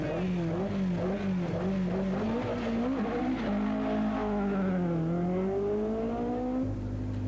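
Rally cars, including the Rothmans Ford Escort and a Vauxhall Chevette, compete on the 1981 Circuit of Ireland Rally. A loud, close engine revs and shifts up and down in a wavering whine, steady throughout, with no voices.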